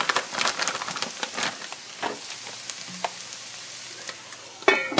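Hashbrowns topped with cheddar cheese frying in a pan, soft crackling sizzle with scattered pops and a brief clatter near the end, fairly quiet and close, no talking.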